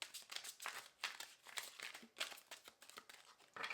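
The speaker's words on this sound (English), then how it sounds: "One more shuffle." A deck of tarot cards being shuffled, with repeated crisp riffling and crinkling bursts in an uneven rhythm, close and fairly quiet, with no talking.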